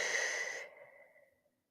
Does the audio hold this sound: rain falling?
no